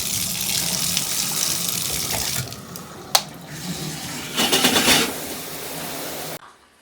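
Water runs steadily from a shower, a close hissing spray that shifts with a few knocks and splashes before cutting off abruptly near the end.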